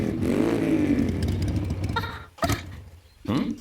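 A motorcycle engine sputtering as it runs out of petrol, a droning run that falters and cuts out, followed by a couple of short clattering bursts.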